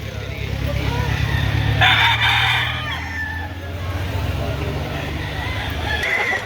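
Chickens at a busy poultry market, including a one-year-old rooster, give a loud crow and steady clucking over a low background rumble as people talk nearby.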